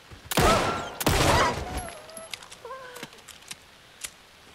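In the Alan Wake 2 video game, a pistol fires at a wolf with two loud, sharp reports in quick succession, followed by fainter clicks, short whines and scattered small sounds over a quiet background.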